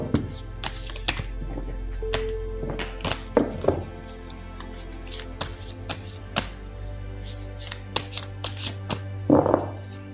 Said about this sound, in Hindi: तो पहले ज़रा मैं कार्ड्स को शफल कर लेती हूँ।